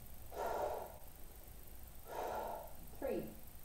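Three strong breaths during an arms, hips and legs workout, two long airy inhales and exhales roughly two seconds apart followed by a sharper, shorter gasp, close to the microphone against quiet room noise.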